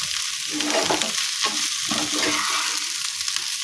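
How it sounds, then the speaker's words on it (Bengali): Potatoes with drumstick flowers fry in a pan while a spatula stirs them, giving a steady sizzle broken by a few rhythmic scraping strokes, close and fairly loud. "এটাকে ভালো করে এর সঙ্গে মিশিয়ে নিচ্ছি আরও একবার"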